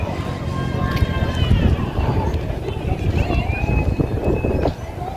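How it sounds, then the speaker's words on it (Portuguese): Wind buffets the microphone outdoors in a steady rushing roar while waiting in a queue at an outdoor street-market events square in Votorantim, with a crowd's chatter and voices in the background. "Tá ventando aqui agora"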